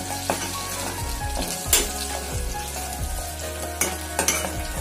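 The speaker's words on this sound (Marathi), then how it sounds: "व्यवस्थित आपल्याला मसाल्याने हलवून घ्यायचं आहे।" Guar beans and mixed vegetables with peanuts, made without onion or garlic, stirred with spices in a frying pan: steady close sizzling broken by repeated scraping strokes of a spoon against the pan.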